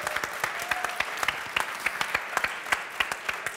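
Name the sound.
applause for the winning team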